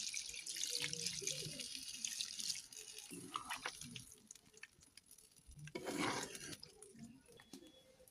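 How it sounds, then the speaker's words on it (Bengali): Water pours steadily into a pan of chicken that has been fried down with spices, a close splashing, trickling flow that tapers off and then surges briefly again. "তো এখানে পরিমাণ মতন জল দিয়ে দেবো।"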